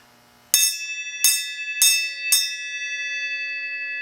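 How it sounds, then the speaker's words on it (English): A metal bell is struck four times in close succession, each strike loud and bright, with the overlapping tones left ringing and slowly fading after the last hit. "you gonna ring the bell?"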